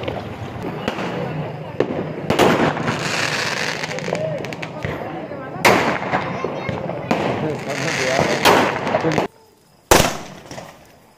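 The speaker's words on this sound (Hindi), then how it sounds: "अब हम लोग वहीं पटाखे छुटाएंगे" Diwali firecrackers burst in a rapid string of loud cracks and pops at close range, with a sharp isolated bang after a brief pause near the end, while people talk and shout excitedly throughout.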